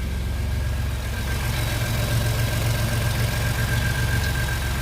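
Ford F-150 EcoBoost pickup, fitted with bigger turbos, idling through its exhaust with a steady, even low rumble and a faint ticking knock, close and continuous with no talk.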